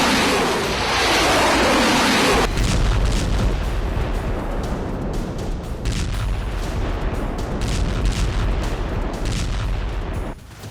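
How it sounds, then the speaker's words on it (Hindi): A North Korean Hwasong-18 missile launches in a dense roaring blast of noise that cuts off after about two seconds, then gives way to a long, heavy rumbling roar that continues until near the end. "उत्तर कोरिया ने एक बार फिर बुधवार को हाशोंग 18 मिसाइल का परीक्षण किया"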